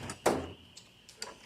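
A metal tool box drawer slides open with a quick rolling scrape followed by a few light clicks and knocks, close and fairly soft, with no talking.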